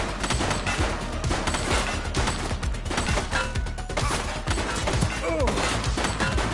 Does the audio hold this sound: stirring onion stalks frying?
no